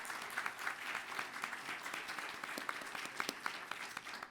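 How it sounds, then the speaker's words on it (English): A round of applause at a Birmingham city council meeting, steady dense clapping from the room, moderately distant and fairly quiet, with no talk over it. "And I think that deserves a round of applause."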